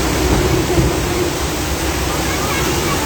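A loud, steady rush of gushing water from a theme park flood special effect at the Universal Studios Hollywood Earthquake attraction fills the space like a torrent pouring down, with faint voices under the roar.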